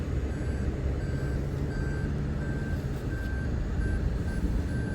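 A car's open-trunk warning sounds on a snowy day in Boston, with evenly spaced electronic beeps repeating steadily over a constant low engine rumble.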